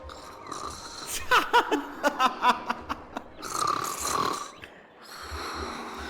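A character in Honkai: Star Rail snoring, a series of short rhythmic snorts followed by longer drawn-out breaths, fairly close and moderately loud with background game ambience.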